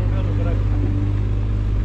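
Eicher 551 tractor engine labouring under load, a low steady droning rumble close by with a faint tonal whine above it, with people talking over it.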